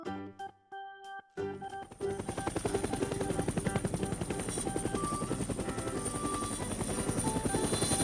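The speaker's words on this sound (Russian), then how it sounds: "Вертолет." Cartoon helicopter in a children's animation about vehicles, a steady loud rotor thudding with engine whine that starts after a brief musical intro and runs continuously to the end.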